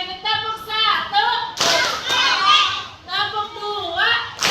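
Schoolchildren in a classroom do a chanted rhythmic clap, with sharp bursts of many hands in time alternating with their loud group voices.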